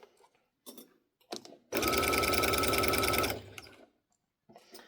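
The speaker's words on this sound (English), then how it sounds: "So we're just going to go all the way around doing this stitch." A sewing machine stitching around the edge of a minky blanket runs in one steady, rapid burst of about a second and a half. Brief handling rustles of the fabric come before and after the stitching.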